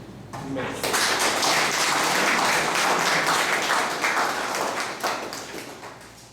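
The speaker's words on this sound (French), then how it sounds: "On va applaudir Marc d'abord." Audience at a gathering on the Feast of the Assumption breaks into sustained applause, a loud, dense rush of clapping that starts after a moment of talk and holds steady for several seconds before easing off.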